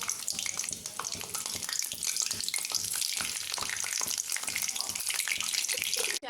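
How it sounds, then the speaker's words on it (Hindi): Cumin seeds sizzle and sputter in hot oil with a little water in the pan, giving a steady, dense crackle close up with sharp pops throughout and no talking. "मुझे लग रहा है कि इसमें थोड़ा पानी चला गया है, इसलिए चटर चटर कर रहा है।"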